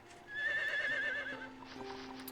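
A horse in the Harvest Moon video game gives a loud, wavering whinny lasting about a second, followed by soft hoof clip-clops.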